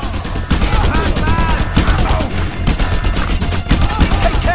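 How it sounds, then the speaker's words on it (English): Gunfire is aimed at the player in Just Cause 2, with loud repeated bursts of rapid shots cracking over a dense din, several volleys in a row and short pauses between them. "Holy crap, I'm getting shot at"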